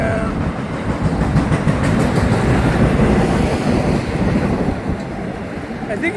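A train slows near downtown St. Augustine, its broad rumbling roar loud and close, with wheel and rail noise swelling and then easing slightly as it loses speed, no clear talking.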